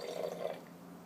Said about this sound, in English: Now we're going to pour wine from a blender.